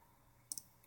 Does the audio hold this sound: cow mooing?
no